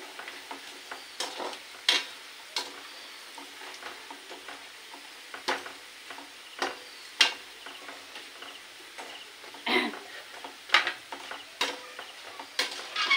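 Colourful chips frying in hot oil during the rainy season, a soft steady crackle punctuated by frequent sharp clicks and scrapes of a utensil stirring the pan, close but fairly quiet, with no talking.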